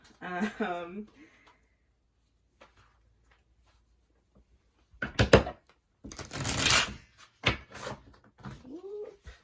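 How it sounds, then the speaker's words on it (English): Tarot cards being shuffled close by in brisk, noisy bursts, broken up by short stretches of a woman's speech before and between the shuffles. "That was a really bad shuffle."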